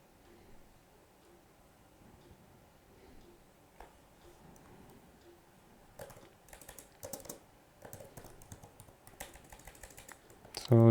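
Computer keyboard typed on steadily while coding Angular lifecycle hooks, soft clustered keystrokes that quicken and grow louder toward the end, with faint background sound.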